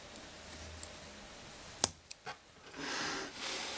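A Sanrenmu LA148 folding knife snaps open on its firm spring, a sharp metallic click followed by a couple of smaller clicks, close and crisp against quiet room noise.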